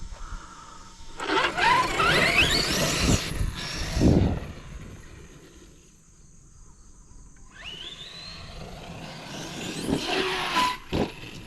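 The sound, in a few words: RC car driving and landing a jump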